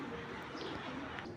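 A pigeon's soft, low cooing rises from a pigeon enclosure, faint and close, over a quiet hiss of background noise for a brief moment.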